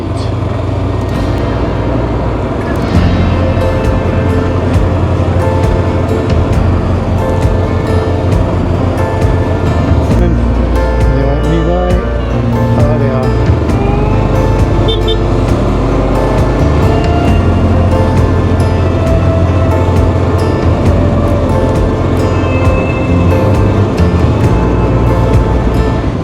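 A motorcycle rides along a single track road with passing places on the Isle of Mull, Scotland, its engine drone and wind rush continuous and loud throughout, with no talk.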